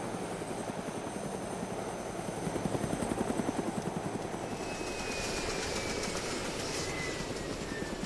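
A helicopter in the video game DayZ fills the scene with steady rotor thump and engine whine, loud and continuous, with the pulsing blades prominent throughout.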